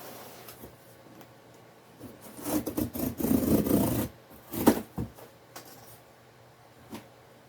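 A cardboard shipping box holding a potted bonsai tree being cut open, quiet rasping and scraping strokes in a short burst mid-way followed by a couple of isolated scuffs, close and fairly soft.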